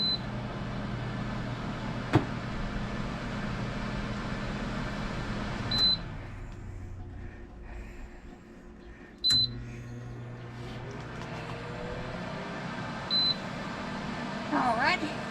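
An air fryer being switched on, with short electronic beeps recurring over a steady fan hum in a kitchen, separated by a few seconds each.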